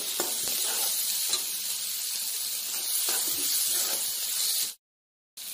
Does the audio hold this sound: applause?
no